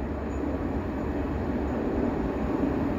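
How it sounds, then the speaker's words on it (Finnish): A freight train rolls past on a railway track, a steady, loud rumble and wheel clatter that holds evenly throughout with no voices. "Varokaa ohittavaa junaa raiteella 1."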